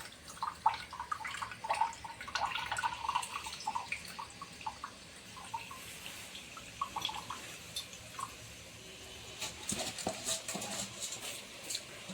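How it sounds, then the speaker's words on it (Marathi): Excess water trickles and drips as it is drained off soaked rice for khichdi, a faint, uneven patter of small splashes continuing throughout with no talking. "पाणी काढून घेऊया एक्स्ट्रा आलं ते."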